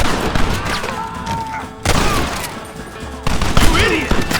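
Video game gunfight in Red Dead Redemption, with a dense fusillade of shots popping continuously under shouting characters, swelling in loudness in bursts.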